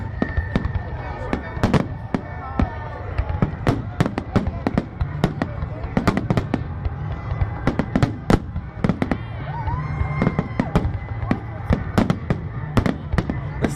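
Fireworks at the Blackheath public display burst in rapid, irregular succession, loud sharp cracks and booms echoing across the open ground with a low rumble between, while people nearby talk.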